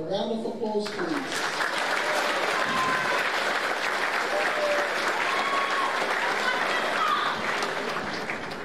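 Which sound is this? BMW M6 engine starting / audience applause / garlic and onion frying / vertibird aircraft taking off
audience applause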